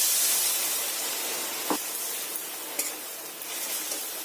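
Ground spices, including Kashmiri chilli and turmeric powder, sizzle steadily in hot oil for a dal after a little water goes in, a close, continuous frying hiss with a few brief sharper spits and scrapes, no voices.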